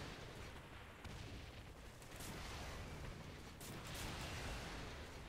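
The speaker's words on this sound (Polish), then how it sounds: "Pięknie, to wszystko wybucha." Explosions and gunfire in the video game Saints Row 3 make a steady wash of rumbling blasts and crackling, swelling slightly toward the end, with no voices.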